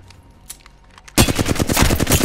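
In Apex Legends, a rapid-fire weapon opens up after a quiet second, a loud, dense automatic burst of shots hammering continuously to the end.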